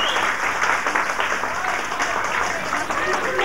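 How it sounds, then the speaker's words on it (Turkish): Loud, sustained applause from an audience, dense clapping filling the whole stretch without a break. "hocalarımıza kocaman bir alkış olsun"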